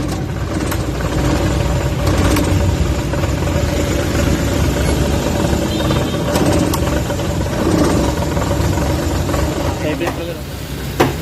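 A Suzuki K6A engine idles roughly with the air conditioning switched on, a steady low droning rumble with vibration, close by, while someone talks over it.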